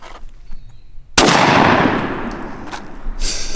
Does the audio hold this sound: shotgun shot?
yes